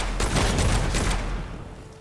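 A dense burst of rapid enemy gunfire in the dark fantasy shooter Witchfire, loud crackling shots packed together for about a second and a half before tapering into a fading rumble.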